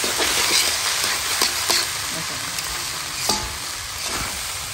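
Fried rice stirred and tossed in a hot pan, a steady close sizzle with repeated scraping and light clanks of the spatula, no talk.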